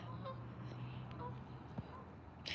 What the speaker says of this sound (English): Some of these geese, they can't fly off.